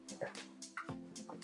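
A dog whimpers and yips in short, high, whining bursts close by, several cries in quick succession, with a person's voice mixed in.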